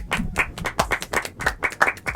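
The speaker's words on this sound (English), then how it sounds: "Little golf claps for Jon Storts, please." A small podcast audience gives light, scattered golf claps, a steady patter of individual hand claps lasting a couple of seconds with no voices over it.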